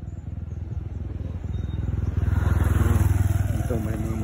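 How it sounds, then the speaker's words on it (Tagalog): A motorcycle on a rural mountain road gives a loud, close, pulsing engine rumble that builds in volume as it passes, with someone talking over it. "Dito may mga motorsiklo na dumaan"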